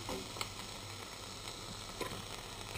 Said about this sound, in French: je le place dans une casserole avec un peu de beurre